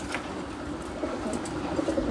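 Soft cooing of fancy pigeons at a farm in Bangladesh repeats steadily over a low rumbling background, several birds murmuring close by with no talking.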